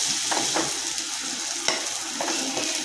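Onions, small onions and curry leaves sauté in a pan for Pallipalayam chicken, giving a steady close sizzle broken by a few sharp stirring scrapes.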